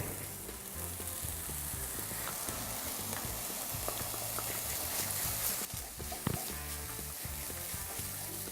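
Mushrooms for a sweet potato cannelloni filling sizzle and fry steadily in a hot pan, with occasional stirring scrapes and clatter over the continuous hiss.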